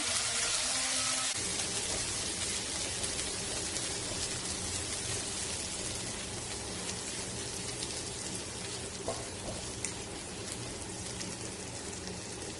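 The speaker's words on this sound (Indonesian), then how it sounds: "setelah halus, tuang santan tadi ya yang kita proses pakai food processor Vienta" Coconut milk poured into sambal goreng cooking in a pan, a continuous wet sizzling hiss with a steady liquid patter, close and even, with a brief low clunk at the start.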